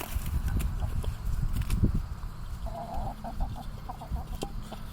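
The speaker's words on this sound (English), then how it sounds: "Clark doesn't like seeds, but the Chickions do" Chickens cluck and murmur up close while pecking at scattered seeds, with soft scratching and brief higher squawks over a busy, continuous background.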